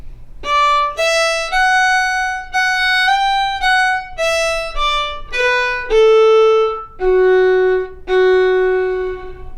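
A solo fiddle plays a lively phrase of St. Anne's Reel in bowed notes, stepping through a run of pitches before settling on a few longer, held low notes.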